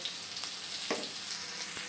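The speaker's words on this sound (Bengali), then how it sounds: "ঢ্যাঁড়সটা অর্ধেকের মতো প্রায় ভাজা হয়ে গেছে" Okra fries in a pan with salt and turmeric, giving a quiet, steady sizzle with faint crackles and a brief stir partway through. No one speaks over it.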